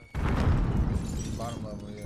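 A frag grenade detonates loudly in Warzone with a heavy, sustained blast and rumbling debris, and a voice speaks briefly underneath.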